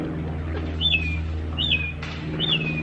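Three short whistled bird calls, each a quick rising-then-falling chirp, are spaced evenly over a steady low mechanical hum. A person may be imitating the bird.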